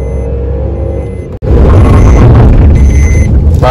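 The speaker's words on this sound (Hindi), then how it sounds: "टायर की ऐसे ना घसीटने की आवाज आई" Maruti Alto 800 during a braking test from 80, with a loud, close rumbling rush of road and tyre noise that drops out for an instant and then surges back even louder.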